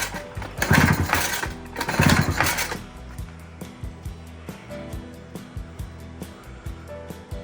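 A 1996 Johnson 3.3 HP outboard being pull-cranked for a compression test: two loud, whirring rattling pulls about a second apart, then a steady run of faint, evenly spaced ticks and clicks.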